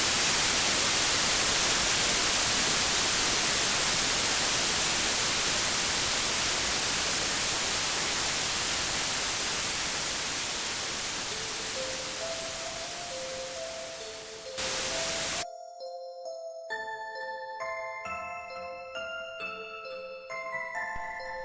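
A woman's scream in an audio drama is rendered as a loud wall of hissing static that slowly fades, then cuts to a brief burst and scattered electronic tones, with no speech.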